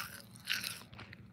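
Close-mic chewing and biting, with a few crunchy bites and wet mouth sounds in quick succession near the microphone, played on purpose into the mic during a livestream of cutting up a Toyota Supra.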